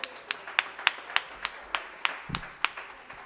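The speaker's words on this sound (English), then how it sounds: "You guys give another round of applause for Jessica Delfino." A small live audience at a comedy show anniversary gives steady rhythmic clapping, about three claps per second, fairly close and moderately loud, with a brief low thump near the end.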